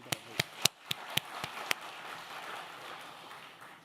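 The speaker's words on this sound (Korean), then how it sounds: "감사와 격려의 박수." Church congregation at a Saturday service starting to applaud after a choir performance: a handful of sharp separate claps at first, then a soft, thinner patter of clapping trailing on.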